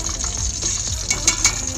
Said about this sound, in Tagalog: So, nagpiprito na po ako ngayon dito.